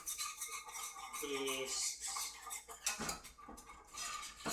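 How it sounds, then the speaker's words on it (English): Whisking broth into a roux in a pan for Swedish meatballs, close scraping and clinking of the whisk against metal in quick irregular strokes, with a brief squeak and soft liquid sounds. "We're going to whisk it though."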